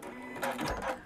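A sewing machine stitching a purse from fabric scraps, heard as a brief close-up burst of mechanical whirring and rattling that lasts about a second.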